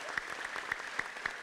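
A church congregation claps hands in a steady beat, sharp claps landing about every quarter second over a soft room background, at moderate volume.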